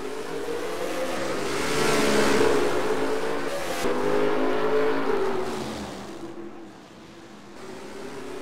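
Stock race cars in a racing video game roar off at the green flag on an oval, a dense, close engine drone that swells as they accelerate and then eases.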